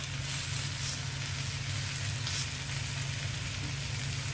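Chicken legs roast in a pan with a loud, steady frying sizzle, an even hiss that runs unbroken with a low hum beneath it.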